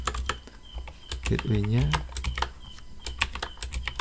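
Typing an IP address on a computer keyboard during a Proxmox 6.2 installation, with rapid irregular key clicks running throughout and a brief spoken word partway through.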